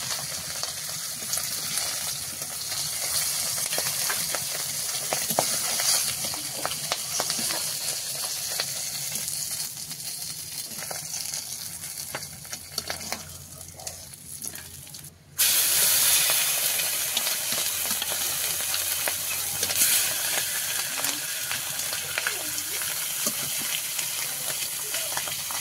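A large katla fish head frying in oil gives a continuous hissing, steamy sizzle up close, with a brief drop partway through before the hiss returns louder.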